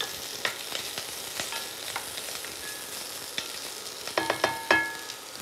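Celery, carrots and garlic fry over medium heat in a pan, a steady soft crackle broken by sharp scrapes and clacks of a utensil stirring, with a quick cluster of knocks near the end.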